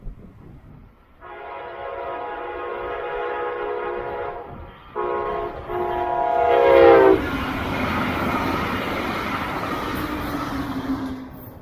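A Brightline higher speed test train sounds a long, loud horn in repeated blasts, then roars past on the rails with a sustained rushing rumble and no voices.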